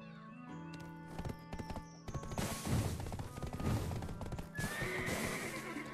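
A horse in the Black Desert game arrives with clip-clopping hooves and a loud whinny, followed by thuds and clattering effects layered over a busy in-game soundscape.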